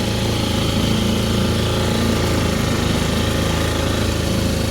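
A small 4 to 6 hp outboard motor runs steadily at close range, a loud continuous engine drone with a fast buzzing rhythm and no talk over it.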